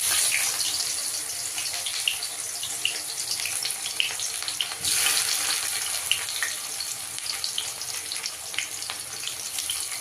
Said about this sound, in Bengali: দিয়ে দেওয়ার পরে এবার পেঁয়াজটাকে তুমি ভেজে নেবে